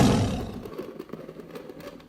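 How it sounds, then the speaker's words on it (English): A tiger roar sound effect bursts in loud and close, then trails off into a rough, rumbling growl that fades over about two seconds. "The tiger made a very loud roar to frighten me."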